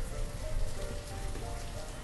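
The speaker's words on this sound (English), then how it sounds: "I wish it would just stop raining" Steady rain falls in the medieval city-building game Banished, a continuous, even hiss of drops on surfaces that stays close and unbroken throughout, with no voices.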